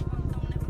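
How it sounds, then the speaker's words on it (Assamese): A motorcycle engine during a cold start at night in Guwahati, with no dB killer fitted in the exhaust, thumps in a quick, even idle pulse close by and fairly loud for a brief moment. "অলপমান ক'ল্ড ষ্টাৰ্ট হ'ব দিছোঁ বিকজ আজি দিনটো বাইক মানে চলোৱাই নাছিলোঁ"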